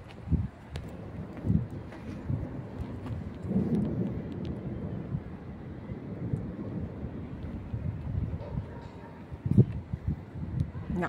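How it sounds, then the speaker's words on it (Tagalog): Thunder rumbles low and continuous during a rainstorm with lightning, deep rolling booms swelling and fading with wind and light rain noise, plus a sharper crack near the end. "Lakas ng kulog at kidlat,"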